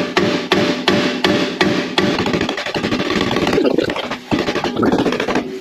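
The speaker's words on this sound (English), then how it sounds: "We're going to need a bigger hammer, aren't we?" Metal hammer blows on a brake line of an HT Holden during a disc brake conversion, sharp evenly spaced strikes close by, slowing into quicker scraping taps toward the end.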